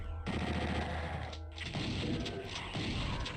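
Chaingunners in PSX Doom fire loud, dense bursts of machine-gun fire almost continuously, with one brief pause midway before the rapid shots resume.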